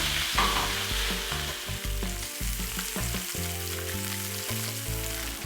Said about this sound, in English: Now, basically this salmon is nice and seared.